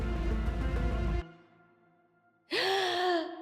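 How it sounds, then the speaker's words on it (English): A revived woman's breath in a movie: a drawn-out exhale fades into quiet, then a sharp, loud gasping inhale returns near the microphone. "hearing the reassuring sound of her breathing once again"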